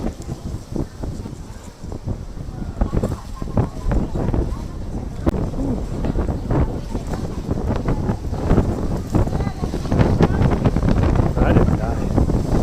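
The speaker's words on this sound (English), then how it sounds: "Man, it's windy." Strong gusting wind buffets the microphone on Victoria Peak in Hong Kong after Typhoon Nida, a steady loud low roar with rougher bursts throughout.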